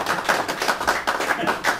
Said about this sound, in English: Don't feel you have to clap